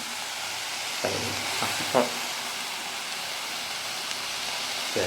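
Green beans frying in oil in a pan, a dense continuous sizzle with a few soft stirring knocks near the start.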